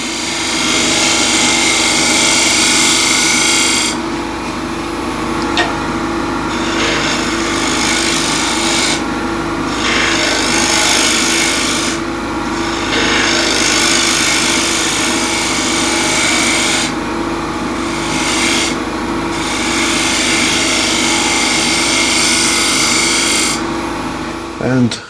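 A scraper shear-scraping a wooden bowl spinning on a lathe, a continuous close rasping hiss under the motor hum, broken by brief pauses where the tool lifts off the wood.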